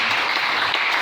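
A church congregation applauding at a sermon in a tent, giving a brief, loud, dense burst of clapping from many hands close by.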